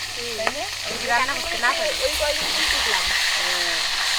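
A pot of river boyal fish curry bubbles and simmers with a steady watery seething, while people talk over it in the foreground.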